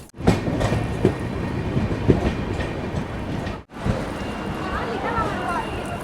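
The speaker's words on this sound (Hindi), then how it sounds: "तो भैया ये फिलहाल अपनी अम्रपाली एक्सप्रेस पहुंच चुकी है।" The Amrapali Express pulls into Sonipat Junction station in Haryana with a steady rolling rumble and wheel clatter close by, while crowd voices and talk carry on throughout.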